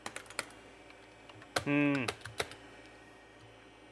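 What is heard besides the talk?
buttons pressed on a Tandy 2500 RSX computer keyboard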